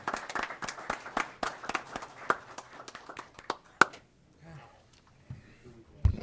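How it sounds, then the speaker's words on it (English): An audience at a county commission meeting breaks into a few seconds of brisk, scattered clapping that quickly tapers off, leaving faint room noise and a couple of stray claps. "Can we applaud? We can."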